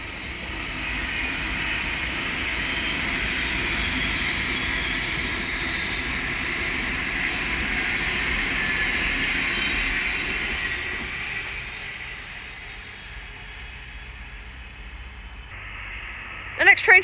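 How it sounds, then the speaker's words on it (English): A Thameslink Class 700 electric train heading from Bedford to Three Bridges passes at Elstow on the Midland Main Line, a sustained loud whooshing roar that slowly fades away, ending with a sharp knock. "The next train to pass by is going to be a Thameslink Class 700 from Bedford to Three Bridges"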